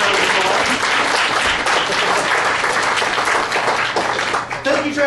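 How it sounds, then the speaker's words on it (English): A crowd gives a volunteer a big round of applause at a straitjacket escape show, full and continuous clapping with a few voices mixed in. "please give him a big round of applause."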